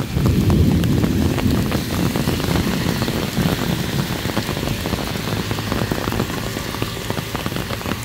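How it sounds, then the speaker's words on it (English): Heavy rain pours down on Central Park West in New York City, a dense, steady, loud hiss of drops hitting the street, with wind buffeting the microphone and no talk. "it started to rain really hard again"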